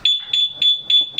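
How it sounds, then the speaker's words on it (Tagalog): A Yamaha Sniper 150 motorcycle's two-way alarm sounds a rapid series of five loud, shrill electronic beeps at an even pulse, close by. "Subukan natin yung alarm."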